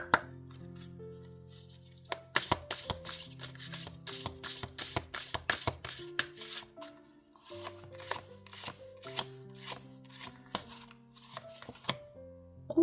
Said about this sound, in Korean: 테마 카드를 3장 뽑아보도록 할게요